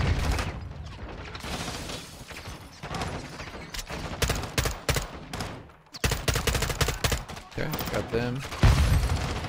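Dense gunfire in the Call of Duty MW2 campaign, bursts of automatic fire and heavy shots rattling almost without pause, loud and close, with someone speaking briefly over it.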